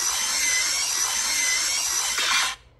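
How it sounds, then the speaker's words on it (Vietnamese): Drill fitted with a sheet metal cutter adapter slicing corrugated metal roofing, a loud continuous high-pitched whine with grinding scrape, close up, ending abruptly as the cut finishes. "Các bác xem cắt tôn múi này, rất ok luôn."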